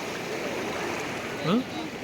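Sea water at the shore near Thirupullani flows back through a shallow channel, a steady broad rushing wash that stays constant throughout, with a brief low voice rising over it near the end.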